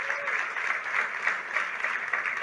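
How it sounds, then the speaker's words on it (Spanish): A church congregation at a Sunday evangelical service breaks into applause, a soft, dense, continuous patter of many hands heard at a distance. "Dele el aplauso al Señor"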